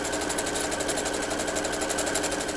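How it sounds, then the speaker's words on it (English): A sewing machine stitches close to the edge of a fabric Christmas stocking, a steady, loud mechanical whir running without a break, with no voices. "So we're just going to sew really close to the edge."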